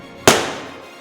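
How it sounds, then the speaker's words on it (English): A single sharp gunshot sound effect cracks loudly and close, then decays into a long, fading reverberant tail, with nothing else heard. "Shot. Shot."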